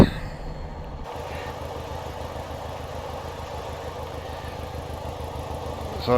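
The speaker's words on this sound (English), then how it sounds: "no mistaking the engine sound. That is how the 205 got its Thumper nickname." A Class 205 'Thumper' diesel multiple unit in Train Simulator throbs with a low, steady engine drone, moderately quiet and unbroken, with a brief shift in tone right at the start.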